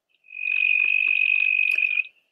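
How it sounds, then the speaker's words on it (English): Southern toad giving one sustained, steady trill of about two seconds, loud and close against a silent background. "Here's the call for the southern toad."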